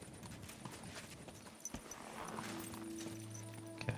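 Horse hooves clip-clop in Kingdom Come: Deliverance II, a quick close trot of hoofbeats at moderate loudness, followed by a low sustained drone toward the end.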